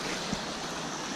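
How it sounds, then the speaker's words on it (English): A creek on the North Fork of the Blackfoot River in Montana rushes steadily, a broad, close and even wash of flowing water with no voices. "Got a nice creek here."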